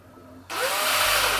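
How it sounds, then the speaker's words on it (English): After a quiet moment a power drill whirs to life and runs steadily at a high, loud pitch, its motor note shifting slightly as it bites. "This is Mike's drill."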